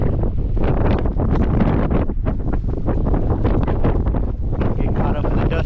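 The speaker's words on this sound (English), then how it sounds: "see how windy it is" Strong desert wind at the White Domes trailhead in Valley of Fire buffets the microphone in constant loud gusts, a rough roaring blast with no letup throughout.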